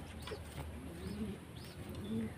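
A released pigeon coos softly and repeatedly in a low-pitched series, heard faintly alongside a few thin bird chirps against steady background noise.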